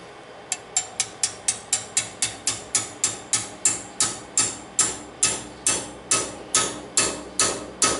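Steady hammer blows drive bushings into the guides along the side of an engine block, a long run of evenly spaced sharp metallic strikes, close and loud with no talking.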